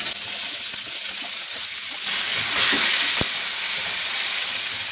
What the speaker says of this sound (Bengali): আমি একটা কড়াইয়ে 2 টেবিল চামচ সরিষার তেল গরম করে এর মধ্যে পটলগুলোকে দিয়ে ভেজে নিব।